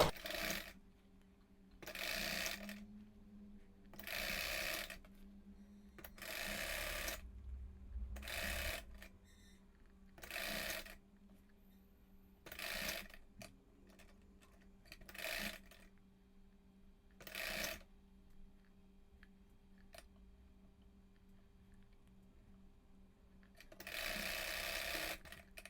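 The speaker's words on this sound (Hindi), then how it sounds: "किनारे से सिलाई लगाएंगे।" A sewing machine stitching the edge of a small girl's skirt top: repeated bursts of fast mechanical whirring, each a couple of seconds long, separated by quiet pauses, close and clear with no talking.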